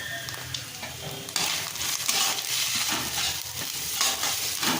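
Kashmiri chilli powder and turmeric frying as a spice paste in a pan for rohu fish kalia, a soft hissing sizzle that swells louder partway through, with light stirring scrapes and no talk.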